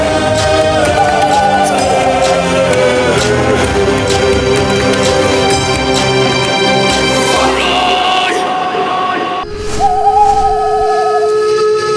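An owl hoots amid a dense orchestral and devotional music bed in a Hindu mythological drama, with a brief warbling call rising near the end after a short pause in the music.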